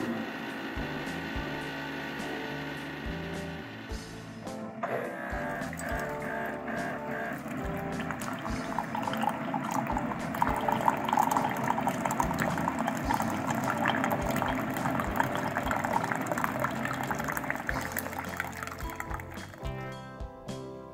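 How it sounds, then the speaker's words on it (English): A Keurig coffee machine heats and dispenses hot water, starting with a low hum, then a steady hissing, gurgling stream that grows slightly louder and continues for about twenty seconds with no talk. "we're just going to go ahead and get some water brewing here"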